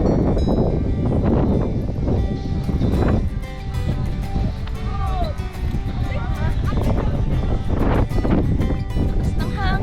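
Strong wind roars and buffets the microphone on the Sky Plaza mountaintop in Natividad, Pangasinan. The blustery rumble is loud and continuous, and people talk underneath it.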